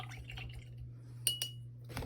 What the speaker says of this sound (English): Rinse your brush really good.